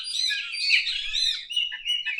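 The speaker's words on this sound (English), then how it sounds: "The parrots are waking up." Parrots in Brazil call as they wake at sunrise, a busy stream of bright chirps, squawks and whistles from several birds, steady and fairly close, with no talk.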